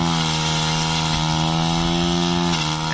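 A small two-stroke Mitsubishi TL-20 brush cutter engine with a three-pronged blade runs at a steady high rev, loud and close, with a brief dip near the end.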